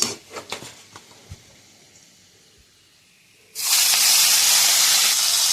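Prawns hit hot oil with a sudden loud, steady hiss that starts partway through after a few quiet kitchen clinks and knocks, then holds as a broad, bright sizzle to the end.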